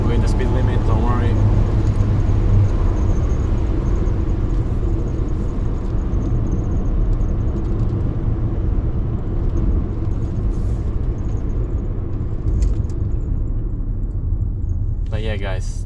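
A steady loud low rumble comes from inside a car driving on the road at the speed limit, with a person talking over it throughout.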